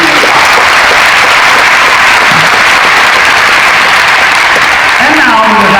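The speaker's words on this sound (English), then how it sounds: "please help me make some noise, a generous round of applause" Audience applause at a school event, a dense, steady wash of clapping from a large crowd filling the hall for the whole stretch, loud and continuous without pause.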